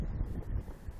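Strong wind buffeting the microphone on a small fishing boat, a brief low rumbling roar that gusts unevenly with no other clear sounds.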